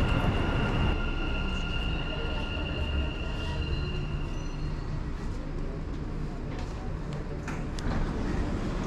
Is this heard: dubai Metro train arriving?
yes